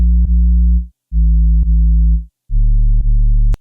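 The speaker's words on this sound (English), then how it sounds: "the sub is just a sine wave with a few more frequencies, and it's got a bit of drive on the filter" A driven sub-bass sine synth in FL Studio plays three loud sustained low notes for a drum and bass track, separated by short silences, with a small click at each note start.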